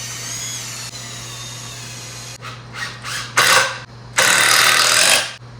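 A power drill drives 2.5 inch number 9 screws into wooden boards for a homemade wheel rack, giving several short whirring bursts and then one longer sustained drive near the end, close and fairly loud.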